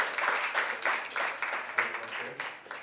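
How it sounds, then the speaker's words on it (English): Audience applause at an award ceremony for a film, fashion, arts and technology festival, a dense steady round of clapping after a best short film winner is announced. "Please a round of applause again."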